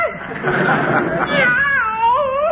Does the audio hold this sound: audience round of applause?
no